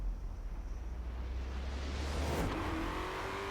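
A Camaro ZL1 in a Forza Horizon 4 race accelerates hard, with a loud, rising engine roar that climbs steadily in pitch, a quick shift and continued revving, heard alone.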